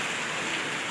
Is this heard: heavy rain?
yes